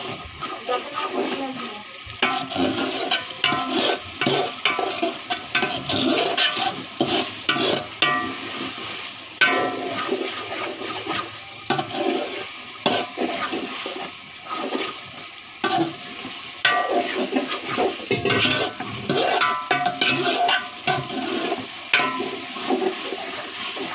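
Chicken biryani masala for Dhaka-style biryani is stirred and sautéed in a pot with one hand, giving loud, continuous, busy frying and scraping, close up and dense, with no clear talk.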